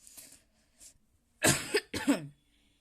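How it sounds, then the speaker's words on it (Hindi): Two close, harsh coughs, the second following just after the first, preceded by faint breathy sounds in a quiet room. "मेरे को थोड़ा खांसी हो गया है"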